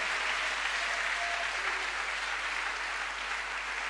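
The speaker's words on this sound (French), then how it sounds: "You can applaud for that." A church congregation applauds in a continuous, evenly sustained wash of clapping that fills the whole stretch without a break.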